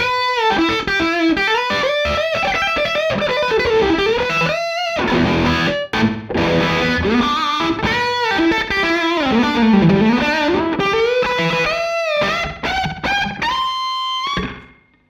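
Distorted electric guitar plays through a compact delay pedal on a short slapback setting, a gritty, boxy riff with quick echoes and sliding bends that runs continuously before cutting off at the end.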